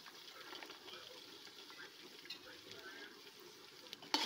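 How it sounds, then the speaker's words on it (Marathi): Soaked green peas frying in oil in a pan with onions: a faint, steady sizzle and crackle with light stirring, close and quiet throughout. "वाटाणेही आपण तेलामध्ये छान असं परतून घ्यायचं आहे"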